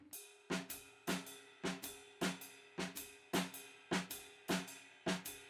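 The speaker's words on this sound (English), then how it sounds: "all of these ands consecutively, one after another, with the jazz ride pattern" A jazz drum groove: steady swinging ride cymbal with a crisp snare hit on each offbeat, repeating evenly at a slow tempo, close and clear.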